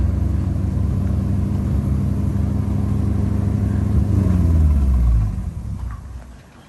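Ford F700 truck with slack tires on the right rear drives down the road, its engine a steady low rumble that swells slightly before fading away near the end.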